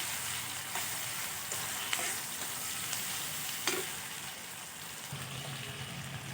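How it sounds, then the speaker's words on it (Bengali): Onion and green chilli frying in oil in a pan, a steady close sizzle with a few scraping stirs and clinks, ending in a low hum. "এবারে ওই তেলের মধ্যে দিয়ে দিলাম পেঁয়াজ আর লঙ্কা। পেঁয়াজ আর লঙ্কাটা ভালো করে ভাজা ভাজা করে নেব।"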